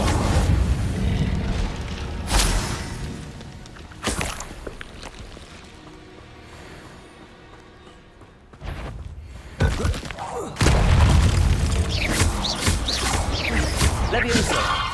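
Fire spell blasts from the Hogwarts Legacy video game, heard as booming thuds and whooshing bursts over a dense game soundscape, with loud impacts recurring through the scene.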